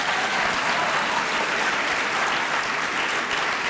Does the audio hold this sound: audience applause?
yes